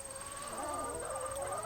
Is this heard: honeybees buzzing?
no